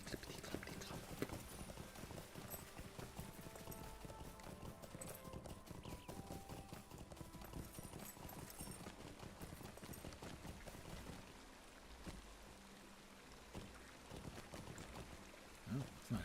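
Horse hooves clip-clop steadily through a mount ride in the game Lord of the Rings Online, a continuous rhythmic trot set among busy in-game ambience and music.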